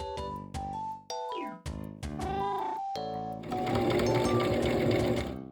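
A sewing machine stitches plush keychain pieces together, starting in short stop-and-go bursts with rising motor whines, then settling into a loud, steady run of rapid needle clatter.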